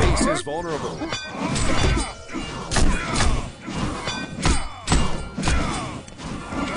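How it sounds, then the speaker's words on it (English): Melee combat in the fantasy game Savage 2: a block followed by a three-hit combo, heard as a run of repeated heavy thuds and clashing whacks at close range, dense and continuous over a noisy battle din. "That's a classic move that vets use you just saw there, and that is using a block and then using a 3-hit combo"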